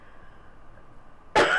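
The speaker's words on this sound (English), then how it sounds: "I started coughing" A single sharp cough bursts out near the end after a stretch of quiet low background hum, loud and close.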